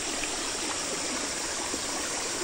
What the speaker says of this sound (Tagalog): Ayan yung sapa namin dito